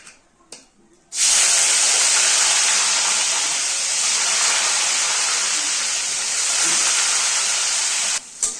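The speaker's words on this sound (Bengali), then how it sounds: "এখন বিনস ভাজা হচ্ছে" Beans frying in hot oil seasoned with turmeric give a loud, steady sizzling hiss that bursts in abruptly after about a second, holds evenly, then cuts off near the end.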